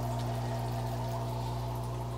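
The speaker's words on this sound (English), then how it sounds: "so the water will slowly drip into the bucket so the fish can get acclimated nice and easy" Water from a knotted piece of airline tubing trickling steadily from an aquarium into a bucket holding wild-caught fish, a continuous, fairly close pouring flow with no pauses.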